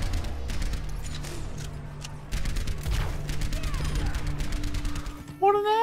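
Enemy gunfire in the Overwatch video game, rapid shots crackling in bursts over a steady low game hum, with a bright synthetic chirp near the end.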